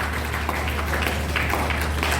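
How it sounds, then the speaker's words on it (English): A room at a Lagos press conference gives a round of applause: steady, diffuse clapping that holds at an even level for a couple of seconds, with no voices over it. "I think we should give a round of applause for that."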